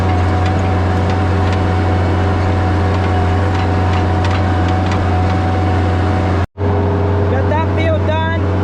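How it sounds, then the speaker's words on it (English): A skid loader hauling hay drones with a loud, steady low engine hum and cab rattle, cutting out for an instant near the end before resuming, with a few faint chirps over it. "it'll be lots of driving back and forth with the skid loader"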